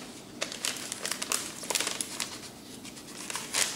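Crisp crinkling and crackling of a magazine sheet being peeled up off wet spray paint, a run of close, irregular papery rustles with no talking.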